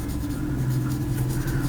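Steady scratching of a marker or chalk writing on a board during a maths lesson, continuous and close, over a constant low room hum.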